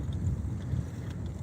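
Strong wind buffets an outdoor microphone in low, irregular rumbling gusts that keep up throughout the short stretch, with no one speaking.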